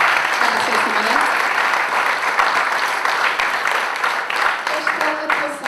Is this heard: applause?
yes